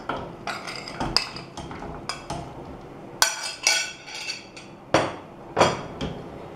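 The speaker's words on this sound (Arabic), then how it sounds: "نحركو ونخليه هكا الفوندون حتى يذوب." A utensil stirring melted dark chocolate with fondant in a pot, giving irregular clinks and scrapes against the pot at close range, some sharper knocks among softer taps, with no talk.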